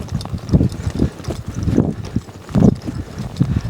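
A horse loping, its hooves thudding in a rhythmic three-beat pattern, close and fairly loud, with light wind noise in the background.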